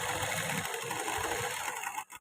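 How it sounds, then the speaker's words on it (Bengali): A sewing machine stitches the side seam of a kameez, a fast steady whirring hum at close range for about two seconds before it stops abruptly. "তাই দেখুন এইভাবে সেলাই করে যাচ্ছি"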